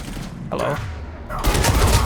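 Raider shotgun from Mass Effect 3 fires in rapid succession in the game, dense heavy blasts running together with mechanical clatter, loud and close, with a voice faintly underneath.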